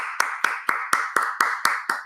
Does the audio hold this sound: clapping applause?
yes